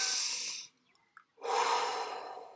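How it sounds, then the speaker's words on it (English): A single deep breath drawn in through the nose, close and clear, followed by a short silent pause and then a long audible exhale, with no talking. "The moment you take a deep breath in,"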